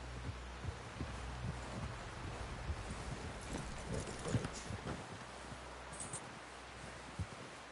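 Horse hooves clip-clop in a steady, uneven plod on the ground as a horse carries a rider into camp, with a faint rustling background.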